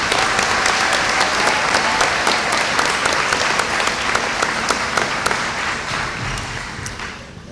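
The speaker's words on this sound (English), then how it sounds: "Now, let's give those folks a round of applause." Sustained applause from a college commencement audience, a dense steady wash of many hands clapping with a few sharper nearby claps, easing slightly toward the end.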